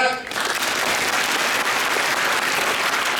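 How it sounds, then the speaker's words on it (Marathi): Audience applause at a lecture gathering, steady dense clapping from a large crowd that swells in after a brief opening and carries on evenly at full strength. "अरे टाळ्या वाजवा जरा."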